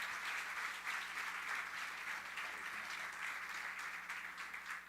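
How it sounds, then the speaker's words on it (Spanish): A church congregation applauds its pastors at an anniversary service, a steady wash of clapping that holds evenly for the whole stretch at moderate distance, with no voices over it. "Un aplauso para nuestros pastores"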